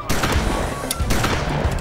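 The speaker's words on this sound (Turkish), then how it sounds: "Silah sesleri abi. Çatışma mı bu?" Gunfire from a firefight in a Turkish TV crime drama rattles in dense, overlapping bursts, loud and continuous with sharp cracks standing out, and no talk over it.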